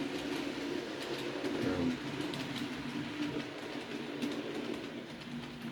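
Model railway locomotive running on a layout, a faint, steady mechanical whir and rumble with light clicking, heard alone without talking.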